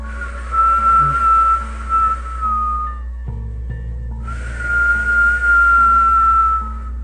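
A thin, high, wavering whistle imitating an eerie sound, held in two long drawn-out phrases with a brief pause between, close and clear.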